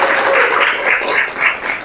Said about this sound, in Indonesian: Tepuk tangan buat saja.